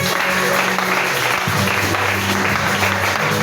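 A church congregation at a Sunday service breaks into loud, sustained applause that fills the room without pause, with a few voices and a low hum mixed beneath the clapping.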